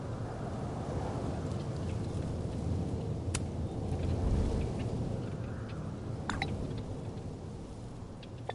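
A psychic storm in the game Life is Strange: Double Exposure brings a steady wash of rain with a low rumbling of thunder that swells in the middle, plus a few sharp crackles.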